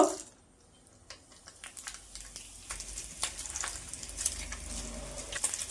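Sago snacks frying in hot oil, a soft continuous sizzle with scattered crackles and pops that grows slightly busier toward the end, close and fairly quiet, no talking.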